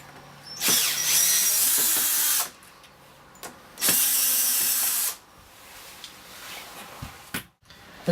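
A power drill bores out rivets to free a hinge, two loud sustained bursts of whining drill noise separated by quieter gaps with small clicks and handling sounds, close to the listener.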